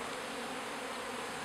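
Honey bees hum in a dense, continuous buzz right at an open beehive in New England during installation of a new brood, steady and close throughout.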